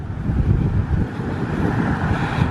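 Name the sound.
wind blowing on microphone outdoors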